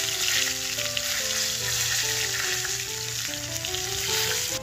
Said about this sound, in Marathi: फोडणीसाठी आपण फोडणीच्या भांड्यामध्ये तेल गरम केलेलं आहे, आता आपण त्याच्यामध्ये राई घालूया